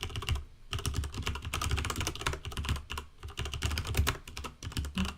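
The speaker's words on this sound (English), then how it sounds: "Typing the codes." Fast, continuous clacking of a computer keyboard, dense irregular keystrokes close up, loud and alone with no talking.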